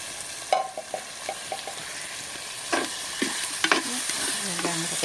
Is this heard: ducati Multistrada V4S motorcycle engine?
no